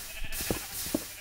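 Sheep bleating in the video game Minecraft, two short bleats about half a second apart over a soft background hiss.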